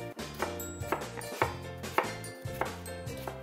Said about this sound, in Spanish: la voy a picar en cuadritos o en tiritas, como prefieran.